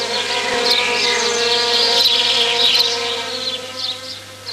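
Honeybees buzzing as they forage from flower to flower, a dense, steady swarm drone held close and loud throughout with shifting wingbeat tones and no voices.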